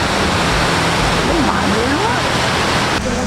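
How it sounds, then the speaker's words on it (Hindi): Kempty Falls in Mussoorie roars as a loud, steady wash of falling water, a dense unbroken rush that fills the whole scene. "ये केम्प्टी फॉल्स मसूरी, एंड ये सबसे बड़ा वाटरफॉल है यहाँ पे"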